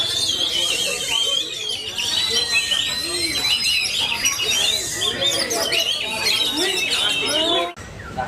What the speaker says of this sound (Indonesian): Nggak salah nama burungnya tanduk naga ya Pak ya?